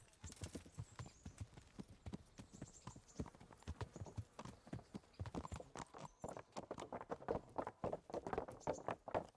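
Horse hooves clip-clop steadily through a medieval open-world game set in Bohemia, a brisk repeated walking-to-trotting rhythm that grows louder and denser toward the end, with an occasional faint whinny mixed in.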